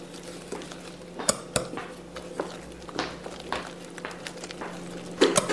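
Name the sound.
mixing corn flour in a bowl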